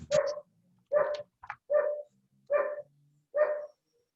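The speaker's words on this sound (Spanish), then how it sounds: "Ay, se deben escuchar mis perros." Household dogs bark nearby, six loud barks spaced out at fairly regular intervals with brief quiet gaps between them.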